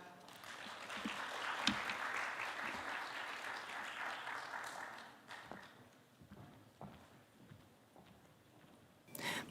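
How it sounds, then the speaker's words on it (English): A quiet meditation expo audience in Seoul claps to welcome a lecturing professor; faint, even applause thins after several seconds into scattered, distant individual claps. "큰 박수로 모시겠습니다."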